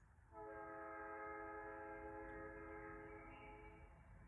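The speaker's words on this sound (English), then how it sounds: "Train." A passing train sounds its horn in one long, loud, sustained blast over a low rolling rumble of the rail cars, the horn fading slightly toward the end.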